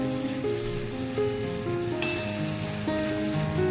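Tomatoes with mustard paste, green chilli, salt and turmeric sizzle and crackle steadily in a hot pan, a continuous close frying hiss with occasional stirring scrapes.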